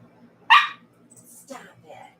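A female dog named Emily lets out one sharp, loud bark up close, then gives a softer whine or yip a second later.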